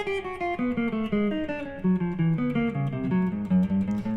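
Single clean guitar playing a picking exercise of four notes per string, skipping strings, in a quick even stream of plucked notes that descends in pitch, alone and moderately loud.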